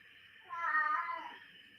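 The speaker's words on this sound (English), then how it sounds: "That's my cat Jagger." A house cat gives one drawn-out, fairly soft meow that rises and fades over about a second, heard alone in a quiet room.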